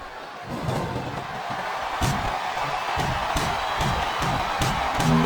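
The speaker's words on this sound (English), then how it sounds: "I'm not sure I agree with what the crowd is chanting, JR, but I guess it's their right." Arena crowd noise from the wrestling video game WWE SmackDown vs. Raw 2007, a steady loud roar of chanting fans with rhythmic pulses and occasional sharp hits, continuous throughout.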